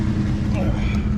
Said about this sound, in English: Yeah, it's idling high.